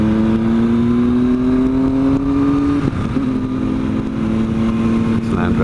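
A Rover car accelerating alongside on a street ride, its engine drone rising steadily in pitch over several seconds and blending with a motorcycle's engine, while someone talks over it.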